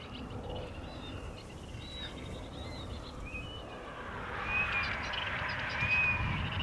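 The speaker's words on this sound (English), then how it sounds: "Chasing away the birds with the Predator bird sound effects." Predator bird calls broadcast to scare birds at Amsterdam Schiphol Airport, a series of thin, distant high whistled cries repeating over rumbling outdoor airport background noise that swells toward the end.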